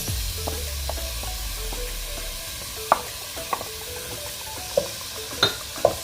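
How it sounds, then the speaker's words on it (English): A soft, steady sizzle of onions frying in a tablespoon of oil in a pan, with occasional light clicks and taps of a utensil stirring. "I'll start frying the onions."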